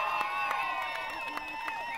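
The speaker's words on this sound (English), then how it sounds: "Give her a cheer." A crowd cheers and claps for a girls' under-17 single scull rowing champion at a Maadi Cup medal ceremony, a sustained outdoor roar with scattered whoops, fairly loud and continuous.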